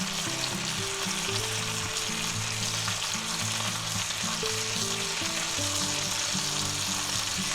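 Chuck roast searing in butter in a hot pan, a loud, constant crackling sizzle that fills the whole stretch with no talking.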